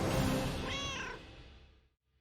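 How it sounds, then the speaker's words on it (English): A short, clear cat meow from the pirate video game Sea of Thieves rises out of a dense, loud wash of game ambience that fades away to near silence afterward. "These furry felines will follow you on adventures across the seas."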